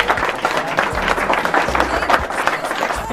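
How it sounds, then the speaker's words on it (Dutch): Audience at a shooting-guild day in Ulft, the Achterhoek, claps in steady, dense applause with no one speaking. "En door voor een applaus."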